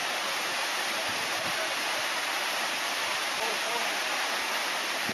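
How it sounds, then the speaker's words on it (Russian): Waterfall near Kibbutz Gadot in Israel, a dense, steady rush of falling water that stays loud and unbroken throughout, with voices faintly present beneath it. "Вот он водопад"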